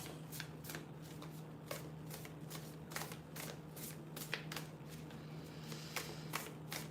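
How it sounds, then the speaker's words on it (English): A deck of cards being shuffled by hand for a tarot-style reading, a rapid run of soft riffling flicks and taps repeating steadily for several seconds, close and quiet over a low hum. "I feel like this shuffle is just shitty."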